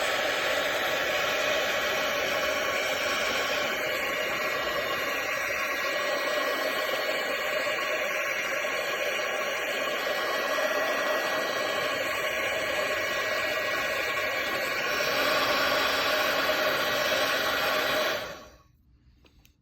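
A heat embossing tool blows steadily up close while embossing on a paper collage, a loud, constant airy roar that holds for about eighteen seconds and then cuts off abruptly.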